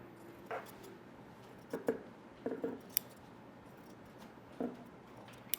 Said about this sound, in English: we're just going to cut a nice leaf shape out of this, just one leaf for this.